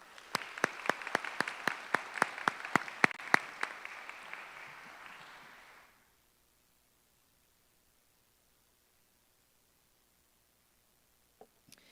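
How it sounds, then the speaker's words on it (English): A burst of applause at a school graduation ceremony, distinct sharp claps over a crowd wash, lasting several seconds before cutting to silence. "Please join me in giving them all a round of applause."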